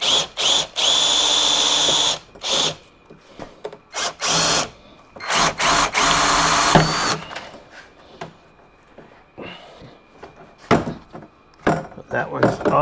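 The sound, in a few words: power drill drilling holes in a Kawasaki Teryx door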